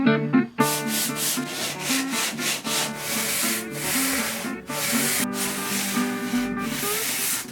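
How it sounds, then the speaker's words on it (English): Sandpaper rubs steadily over dried wood filler on a model diorama, making a rhythmic, close scratchy hiss with repeated strokes. Music plays underneath throughout. "I made an even surface on the sides with the wood filler and sanded it smooth."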